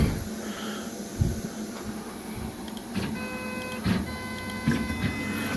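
A Tormach PCNC 770 CNC mill powering up and resetting, with a steady whirring hum, several soft clunks and a few thin high electronic tones settling in, close and alone.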